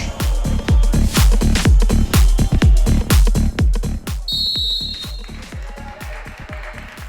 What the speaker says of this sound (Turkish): İkinci yarının ilk düdüğü.